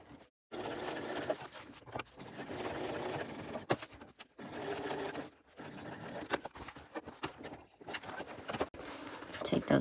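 A sewing machine stitching an appliqué mountain onto a bag, bursts of fast rhythmic close stitching broken by short pauses, with someone talking over parts of it.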